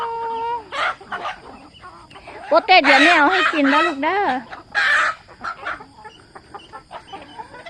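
Backyard chickens cluck and a rooster crows in several bursts close by, mixed with short calls, while someone talks to them over the birds.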